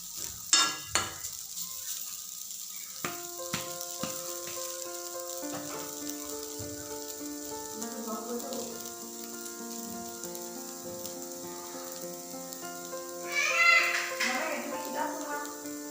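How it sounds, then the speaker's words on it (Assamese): Raw banana mixture is stirred and fried in a pan, with a soft steady sizzle and repeated scraping stirs running under sustained background tones, and a louder clatter of stirring near the end. "এইখিনি এনেকৈ ইটোৰ পৰা সিটো এৰি নাযায়, তেতিয়ালৈকে এইখিনি এনেকৈ ভাজি থাকিব লাগিব।"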